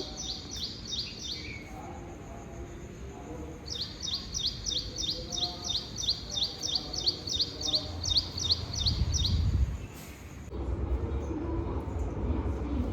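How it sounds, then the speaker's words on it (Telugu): House sparrows chirp in rapid repeated bursts outdoors, steady and fairly loud, over a low rumble of distant traffic. "పిచ్చుకలు ఎంత బాగా సౌండ్ చేస్తున్నాయో."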